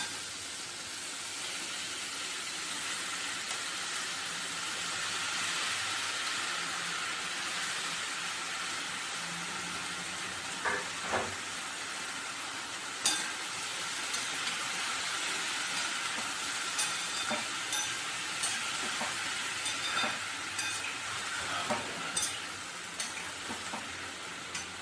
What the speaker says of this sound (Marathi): याच्यामध्ये टाकायचं आहे स्वच्छ धुतलेला मसूर